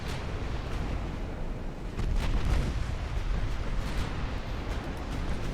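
Warship guns fire in the naval battle game Ultimate Admirals: Dreadnoughts, a rumbling wash of distant, overlapping booms and blasts rolling on continuously.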